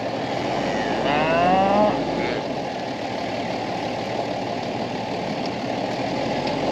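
Cattle in a farm pen give a single drawn-out moo near the start, heard over a steady engine idle, with a low rumble continuing after the call fades.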